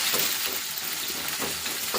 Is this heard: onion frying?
yes